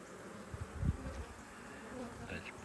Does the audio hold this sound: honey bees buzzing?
yes